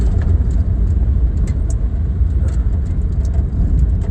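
A 1959 Edsel Ranger's engine runs steadily at close range, a loud continuous low rumble with a mid-pitched exhaust drone and faint ticking on top, no voices.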